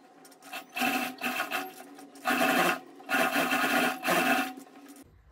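An electric sewing machine stitches along an overcoat's edge in about four quick whirring runs separated by short pauses, close and clear with no talking.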